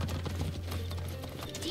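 Horse hooves clip-clopping in Assassin's Creed Origins, a faint rhythmic trot under a steady low hum and someone talking over it.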